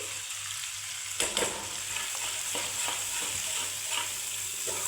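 Spices hit hot oil with tomatoes for a mushroom masala, bursting into a loud sizzle that continues steadily as they are stirred, with occasional scraping clinks of the spoon.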